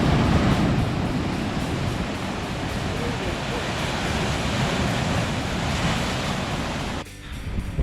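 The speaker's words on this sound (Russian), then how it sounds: "А это вот берег океана" Ocean surf breaking on a volcanic-rock shore of Tenerife, a steady loud wash of waves with wind noise on the microphone, dropping briefly near the end.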